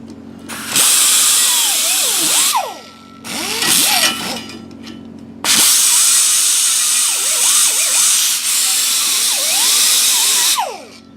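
A high-speed power tool cleans the back side of a hole in a wheel rim before welding, giving a loud, close, shrill whine in three sustained bursts separated by short pauses.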